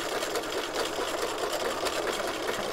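A sewing machine sews a zigzag utility stitch in a continuous, fast, even hum with a fine rhythmic chatter, heard up close and alone.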